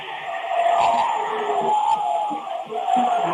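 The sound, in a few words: crowd cheering at a girls' basketball semifinal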